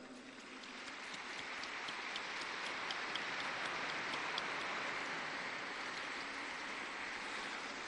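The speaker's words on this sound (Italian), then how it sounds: "Un applauso ai nuovi beati." A large outdoor crowd in St Peter's Square, Vatican City, applauds the newly beatified, a dense distant patter of clapping that swells and holds steadily without voices.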